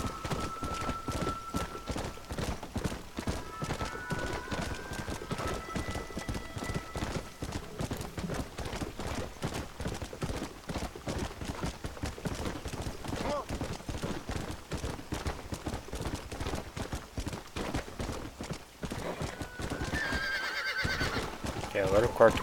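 A horse in Red Dead Redemption gallops with steady, rapid clip-clop hoofbeats that keep going, broken by whinnies and neighs, and a voice talks over the running.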